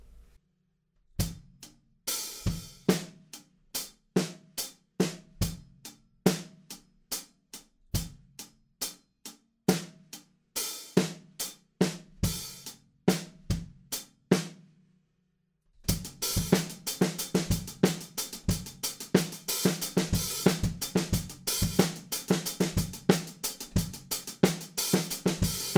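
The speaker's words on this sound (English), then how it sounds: "this other beat which is just the same, but with the kick drums and a couple more ghost notes" Drum kit playing a beat, first a sparse pattern of sharp hits, then after a brief pause a denser groove with kick drums and extra ghost notes, close and alone.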